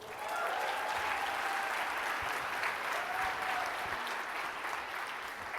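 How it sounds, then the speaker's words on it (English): A conference audience at an equitable-AI event applauds steadily and fairly loudly, dense even clapping sustained for several seconds with a faint crowd murmur beneath. "give the ERG people a round of applause."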